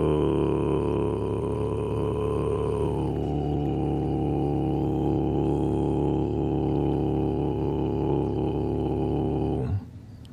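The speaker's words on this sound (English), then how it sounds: "That's called a vocal fry" A human voice holds a long, continuous vocal fry as a warm-up, a low creaky rattling growl sustained evenly for about ten seconds, loud and close, then cutting off abruptly.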